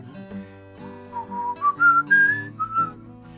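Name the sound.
whistling a tune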